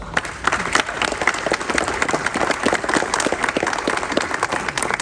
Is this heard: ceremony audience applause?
yes